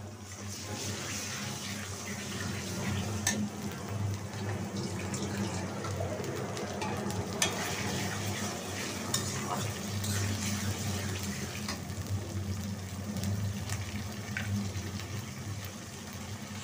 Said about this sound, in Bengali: আর রসুন পেস্টকে একটু ভাজা নিব।